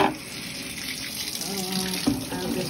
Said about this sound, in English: So yeah, let me water her.